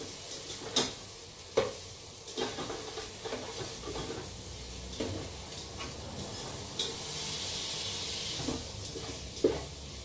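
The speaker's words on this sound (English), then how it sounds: "So all we have to make sure that the soya chunks don't stick with the base, so that's why I'm stirring." Soya chunks frying in a pan while being stirred, a soft continuous sizzle broken by regular scraping strokes and a few sharper utensil knocks against the pan, close and moderately quiet.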